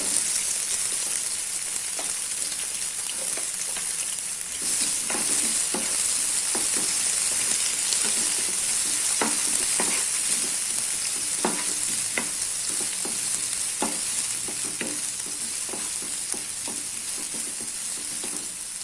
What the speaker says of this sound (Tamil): வெங்காயமும் கருவேப்பிலையும் போடுறேன்.